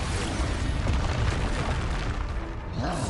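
Expulso blasting spell in the PS5 game Hogwarts Legacy, a dense, loud booming burst that rumbles steadily throughout and eases slightly near the end, with no talking.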